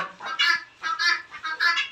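Chickens and ducks cluck and quack near water, three quick bursts of close, fairly soft bird calls in a short rhythmic sequence.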